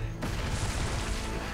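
A goblin's grenade goes off in Castlevania: Lords of Shadow as a sudden, loud, broadband blast that cuts in sharply and rumbles on with dense crackling debris for over a second, without any voices.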